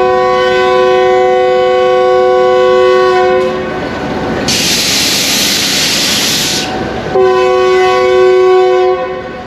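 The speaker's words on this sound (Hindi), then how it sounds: "कहीं 2 मिनट रुकने के बाद ट्रेन आगे बढ़ रही है।" The 101 Up train from Lahore pulls out of Gujar Khan station, its loud sustained horn blaring, breaking off briefly under a rushing rumble of wheels, then sounding again close by.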